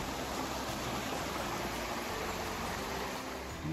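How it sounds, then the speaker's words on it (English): A brook runs past a campground with small waterfalls along its course, giving a steady, broadband rush of flowing water close by with no talk over it. "A few little waterfalls here and there up and down the brook."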